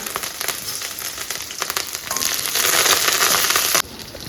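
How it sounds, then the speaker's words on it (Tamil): Mustard seeds, chana dal, shallots and curry leaves tempering in hot oil for an eggplant curry, a loud steady crackling sizzle that swells midway and then drops off abruptly near the end. "உடனே கா தாளிச்சிட்றேன் எண்ணெய் ஊற்றிக்கங்க கடுகு கடலப்பருப்பு எப்பவும் போல் வெங்காயம் சின்ன வெங்காயம் கூட வந்து கருவேப்பிலை"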